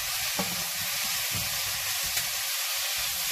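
Diced pork, cut into bite-sized pieces, sizzles steadily in a hot pan, with a dense, continuous frying hiss up close and a couple of faint clicks. No one speaks.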